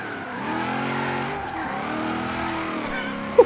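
HSV GTS Maloo ute in the Forza Horizon 3 video game sliding on the handbrake, its engine droning steadily with rising and falling tire squeal throughout, close and loud, with a brief sharp knock at the end.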